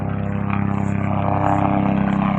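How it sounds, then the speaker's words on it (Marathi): A helicopter flies over Bhamchandra hill while showering flowers. Its rotor drones steadily with a rapid, even chop, fairly close and alone. "ते आले हेलिकॉप्टर सुद्धा आलेलं आहे"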